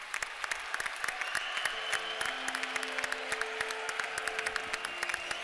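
Steady applause from a crowd after a Finland–Argentina women's handball match, dense sharp claps continuing throughout at an even level, with a faint sustained tone in the background.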